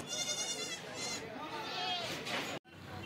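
Goats bleat repeatedly amid a busy crowd at the Murud goat market in Latur, wavering cries rising over steady background chatter and market noise.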